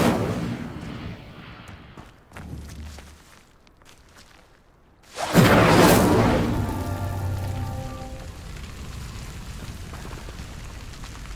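Incendio fire spell in Hogwarts Legacy lighting pyres, a sudden loud whooshing burst of flame that flares up and then settles into a crackling, rumbling fire that fades over several seconds.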